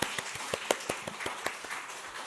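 Brief, scattered applause from a small church congregation during a Sunday afternoon service in Seoul, a handful of light, uneven claps that are fairly faint and quickly fade.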